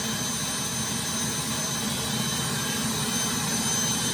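A model Lama helicopter turbine engine idling after spooling up, giving a steady, loud, continuous whine and roar with a low rumble that holds level throughout without any voices.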